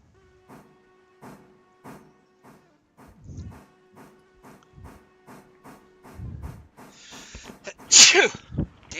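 A single loud, sharp sneeze bursts out close to the microphone near the end, after quieter rhythmic electronic tones and low clatter in the background.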